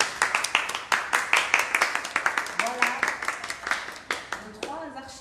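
Scattered hand clapping from a small group marks an on-stage contract signing, sharp claps in quick irregular bursts up close, with voices talking over and between them.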